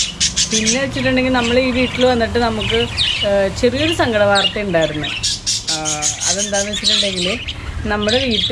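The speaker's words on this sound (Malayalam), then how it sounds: "അപ്പോൾ അങ്ങേ അറ്റത്തൊരു കൂട്ടിൽ കിളിക്കുഞ്ഞ് കരയുന്നുണ്ട്." Lovebird chicks squawk and chirp from a cage, shrill repeated calls mixed in with a person talking over them throughout.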